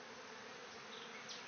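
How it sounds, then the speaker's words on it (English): Angry honey bees pour from an opened hive box that held hive beetles and wax moth, making a loud, dense, steady buzzing drone that fills the whole moment close to the listener. "this is what a few thousand really pissed off bees look like"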